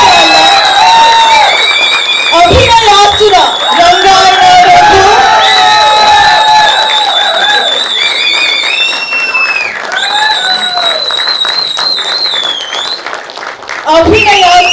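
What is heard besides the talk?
loud applause and cheering from audience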